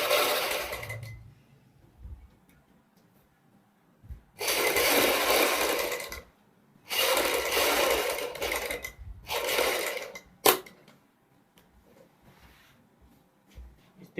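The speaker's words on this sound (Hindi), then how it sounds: "हम ऊपर से सिलाई शुरू करेंगे।" A sewing machine stitches a leaf-shaped neck design on a kurti, starting from the leaf tip. Three close, loud whirring bursts are separated by short quiet pauses.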